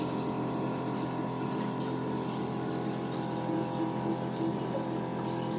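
A water ionizer machine hums steadily as water pours continuously from it, a constant pump-like drone throughout with no voices.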